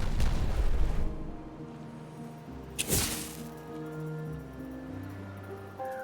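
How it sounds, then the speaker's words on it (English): Explosives detonating in the city-building game Timberborn: a heavy low rumble fades out, then a sharp blast lands midway and dies into a sustained low droning tone. "Detonate that."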